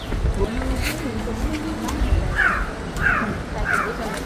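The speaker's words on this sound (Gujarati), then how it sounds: "અમુક પક્ષીઓ હોય એ તેમનો અવાજ કરતા હોય છે" Three harsh caws from birds in the forest on Girnar, Junagadh, repeat about every half second in the second half, over a steady outdoor background and low murmuring.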